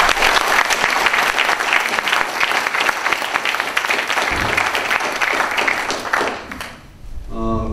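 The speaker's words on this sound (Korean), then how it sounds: "큰 박수 한번 보내주시기 바랍니다" Dense, sustained applause from an audience at a Korea Veterans Association address fills the room for several seconds, then thins and fades as a voice begins to speak.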